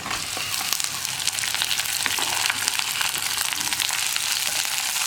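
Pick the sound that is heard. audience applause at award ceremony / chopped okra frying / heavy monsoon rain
chopped okra frying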